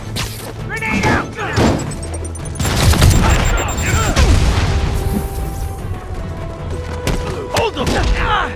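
A grenade blast and surrounding combat booms and thuds from the Spider-Man PS4 game during an outpost fight, loud and close, mixed with shouting voices and scattered gunfire.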